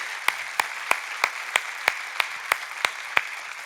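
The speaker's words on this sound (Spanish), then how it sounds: "¿Qué te parece si damos un aplauso al Señor por eso?" Church congregation clapping for the Lord during a sermon, with sharp, evenly spaced claps in a steady rhythm, each ringing in a reverberant room over a faint background hum.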